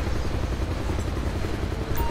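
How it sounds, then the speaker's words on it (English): Helicopter in GTA V's LSPDFR police mod flying overhead, a steady broadband rotor and engine rumble that holds at a constant level for about two seconds, with no speech over it. "Helicopter."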